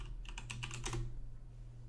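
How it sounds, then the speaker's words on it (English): Fast, uneven clatter of keys on a new computer keyboard, a burst of close typing strokes that trails off into quiet background hum. "this new keyboard makes you type like a goddamn idiot"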